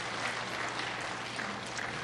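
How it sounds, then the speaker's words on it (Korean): A church congregation claps together during a Sunday worship service, a dense, even wash of applause lasting the whole two seconds with no voices over it. "우리 박수 한번 해요"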